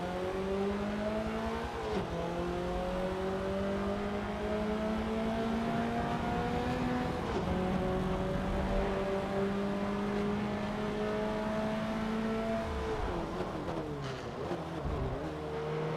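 Honda Civic engine in Forza Motorsport 7 racing, loud and continuous, revs climbing through gears with sharp throttle blips on downshifts and occasional tire noise, no talk over it.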